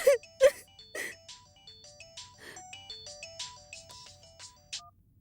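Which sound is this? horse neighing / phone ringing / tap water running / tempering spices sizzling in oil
phone ringing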